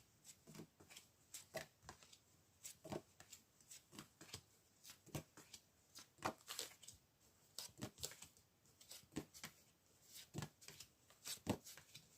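Tarot cards being shuffled by hand, a quiet close series of riffling, flicking bursts repeating in quick irregular rhythm, with no talking.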